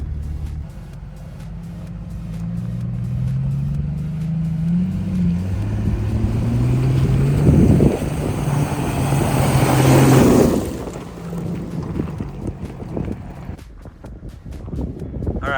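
An off-road vehicle in Utah's Little Moab area growls down a steep rocky line, its engine rising and falling over about fifteen seconds, swelling loudest near the middle before easing off, with gusty wind buffeting the microphone.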